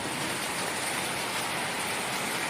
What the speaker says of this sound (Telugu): పెద్ద వర్షం పడుతుంది, ఉరుములు వస్తున్నాయి